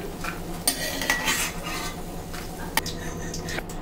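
Green peas stirred in a pan while frying for a street-style pea chaat, with a spoon scraping and clinking against the metal in irregular strokes and a faint sizzle underneath, close and alone.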